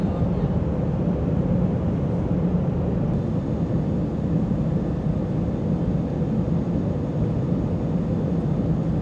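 Airplane cabin noise in a Lufthansa A380 on the landing approach to Munich, a loud, even, continuous low roar with no breaks, heard alone.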